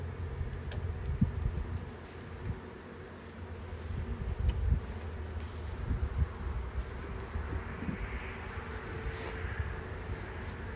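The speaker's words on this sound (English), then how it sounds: "I'm going to knock these bees" Honey bees buzz around an open beehive during a hive change, a steady low hum with soft rustling and some wind noise, fairly close and without talk.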